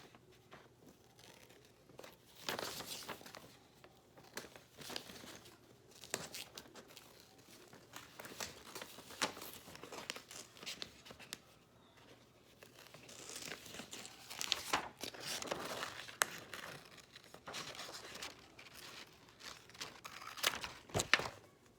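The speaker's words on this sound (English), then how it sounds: "all you need is a piece of paper and then cut it into a batter shape" Paper rustles and crinkles while being cut into a batter shape with scissors, giving soft irregular crunching and snipping bursts close by, with no voices.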